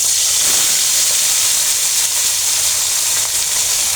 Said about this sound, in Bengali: তো আমি আস্তেও ইলিশ মাছগুলো ভেজে নেব